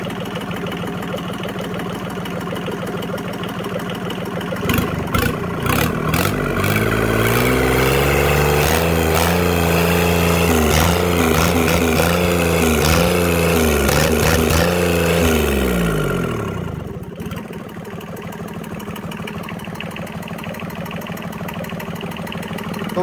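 Yanmar 3T70 diesel engine idling with a steady knock, then revving up and holding higher speed for about ten seconds before dropping back to idle, loud and close with no speech.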